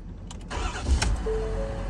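A 2020-or-newer Ford Super Duty truck engine cranks briefly and catches, then settles into a steady idle, after a repair for a no-crank, no-start fault; close and fairly loud, with no talk.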